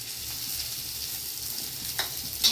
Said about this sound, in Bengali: সামান্য পেঁয়াজ কুচি, একটু লঙ্কা কুচি আর কারি পাতা কুচি, এগুলো সব দিয়ে দেবো তেলের মধ্যে